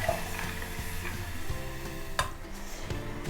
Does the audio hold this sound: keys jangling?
no